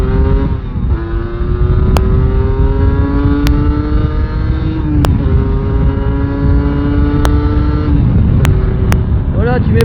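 A Yamaha TDR 125 two-stroke motorcycle accelerates hard, its engine whine climbing through the gears with sharp drops at each shift, loud and close under wind rush.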